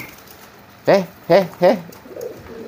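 A pigeon coos three times in quick succession, close and clear, its throaty warbling notes standing out over a quiet background.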